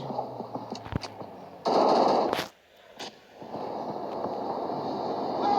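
Bursts of pistol gunfire ring out in a video game match, loud and close, with a sustained volley of shots, a brief lull, then more rapid firing.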